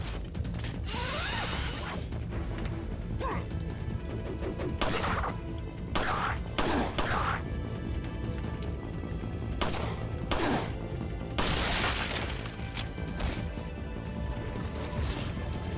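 Rapid bursts of gunfire in Resident Evil 4 with sharp bangs and crashes over a steady background score, loud and close throughout.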